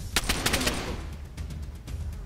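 Gunfire in the PlayStation 4 game DayZ: a rapid burst of several shots up front, then a few sparser, fainter shots trailing off.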